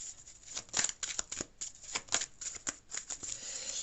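Oracle cards shuffled and drawn close by, a quick steady run of papery riffling flicks and slaps going on throughout with no talking.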